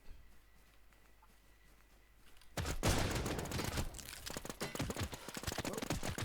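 Gunfire in the video game Warz: a quiet stretch breaks into loud, dense bursts of rapid shots that keep crackling in a steady fusillade.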